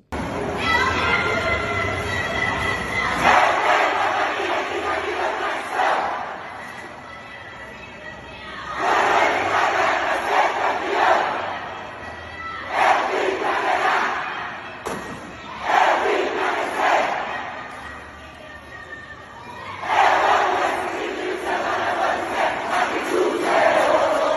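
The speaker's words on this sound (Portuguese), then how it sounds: "Confiram então aí um vídeo da Fúria Sorocabana, como que se porta na arquibancada a torcida lá do interior paulista" Fúria Sorocabana futsal supporters chant together in the stands of an indoor arena, a big crowd roaring in rhythmic waves that swell and fade several times, loud and echoing.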